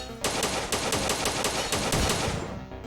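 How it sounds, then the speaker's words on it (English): Rapid automatic gunfire from a first-person shooter game, a dense sustained burst of repeated shots with sharp onsets every half second or so, loud and continuous with no talking. "I got hit by something that was shooting at me I didn't even see"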